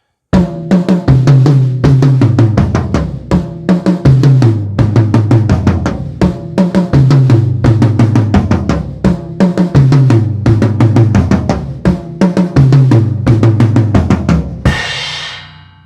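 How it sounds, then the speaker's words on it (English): A full drum kit groove with a steady bass drum pulse on every beat, played as crotchets, four per bar, loud and busy with cymbals, ending in a washy crash. "the next step is to play your bass drum, but play it as crotchets now"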